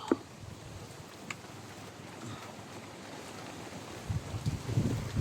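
Gusty wind buffets the microphone, rising into heavier rumbling blasts toward the end, with a faint wash like water in the background.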